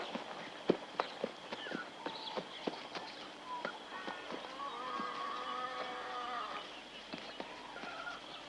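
A horse's hooves clip-clop in an uneven walking rhythm during a ride, fairly faint and distant, with soft background voices and ambient noise around them.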